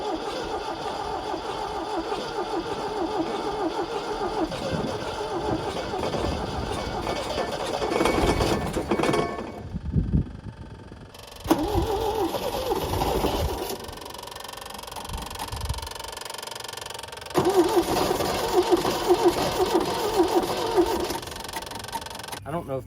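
A 1974 MG engine, parked for 30 years, cranks and sputters, trying to catch on a spray of starting fluid. The uneven mechanical churning comes in bursts with pauses, and someone talks over it.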